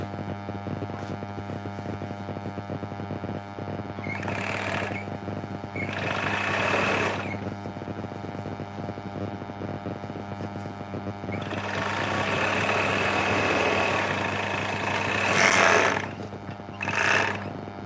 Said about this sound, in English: It's the Juki COVERSTITCH. So I'll be using it in just a few moments.